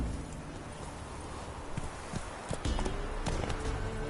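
Roach, Geralt's horse in The Witcher 3: Wild Hunt, trots along with a steady clip-clop of hooves, close and even, the rhythm growing a little louder and busier toward the end.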